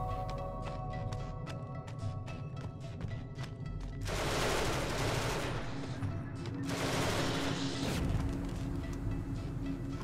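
Assault rifle fire in the sci-fi shooter Genesis Alpha One: rapid, evenly spaced shots in a steady burst, then longer roaring sustained volleys, loud and close with no talk.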